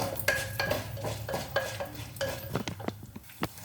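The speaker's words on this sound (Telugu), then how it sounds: "ఇప్పుడు ఈ పోపులు వేగుతున్నాయి కదా" Spices crackling and sizzling in hot oil in a kadai, tempering for a ridge gourd peel chutney, with repeated sharp pops and spatters over a steady frying hiss, close and moderately loud, and no talking.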